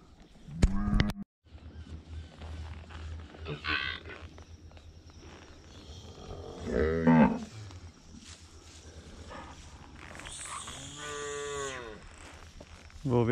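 A cow moos loudly in an open pasture, with several drawn-out lowing calls spread across the stretch and faint footsteps and rustling between them.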